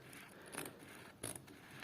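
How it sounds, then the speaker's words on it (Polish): Scissors slide along the seam of a fabric cover for a palm, making two quiet, brief snipping scrapes against a faint hiss. "O, i jadę sobie po prostu nożyczkami po fudze."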